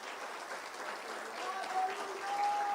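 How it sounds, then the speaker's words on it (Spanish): A church congregation applauds during a Spanish-language sermon, a steady, moderately distant wash of clapping that runs the whole length with a faint tone sounding underneath. "Denle un aplauso al Señor."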